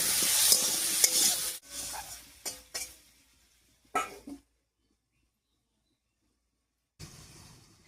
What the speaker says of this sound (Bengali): এবার ঢাকা দিয়ে আলুটাকে কিছুক্ষণ রান্না হতে দেবো।